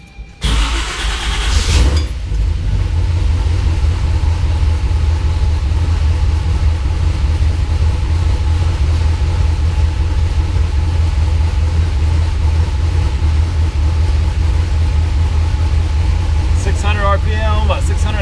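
A Pontiac Trans-Am fitted with Microsquirt engine management, having its runaway idle speed adjusted, idles loud and close with a steady low rumble after a brief clatter at the start.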